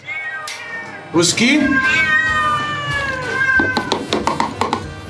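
A cat meows loudly and repeatedly up close, with drawn-out, wavering cries, while people talk over and between the calls.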